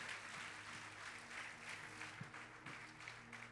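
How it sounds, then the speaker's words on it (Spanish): Congregation applauding to the Lord during a Mother's Day special service at a church, a steady, dense wash of clapping held at moderate level with a faint low hum beneath, heard from within the room. "Dale un aplauso al Señor, aleluya."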